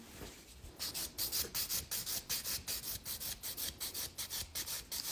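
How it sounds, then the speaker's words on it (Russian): A file sands a stained-glass style gel nail extension in quick, even back-and-forth rasping strokes, close and steady, after a short quiet lead-in. "Ну, вроде все ок. Шлифуем."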